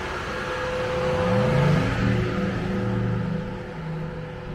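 A Porsche Taycan electric car drives by with a smooth, spacey whine that rises and swells over a steady road rumble, loudest near the middle and then easing off.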